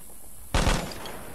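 Gunfire in the Vietnam War shooter Vietcong, heard as a sudden close burst of two or three sharp shots that cuts in and then trails off into a noisy tail.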